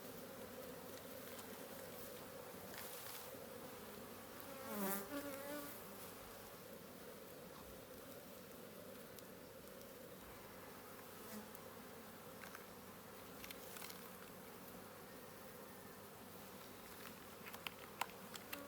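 Agitated honey bees buzz steadily and densely around an open hive during an inspection, the swarm drone swelling louder near the middle before settling back to a constant close hum.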